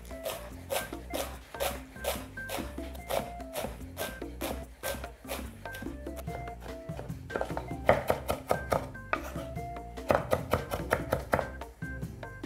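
Quick, regular knife strokes chop food finely on a board while preparing a lamb sauce, a steady run of sharp taps with short pauses and faint tonal background sounds.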